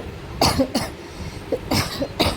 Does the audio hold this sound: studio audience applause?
no